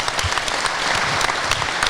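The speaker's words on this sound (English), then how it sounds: "Give yourselves a round of applause, you've been a fantastic audience." Audience applause at the close of a live car-show recording, a steady dense wash of clapping with sharp individual claps standing out, close and loud throughout.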